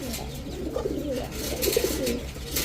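Racer pigeons coo close by in short throaty bursts, two or three calls rising over a steady low murmur of the loft.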